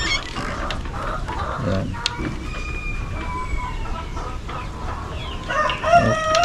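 Chickens cluck and a rooster crows on a poultry farm, repeated calls close by, with a brief spoken word in the middle.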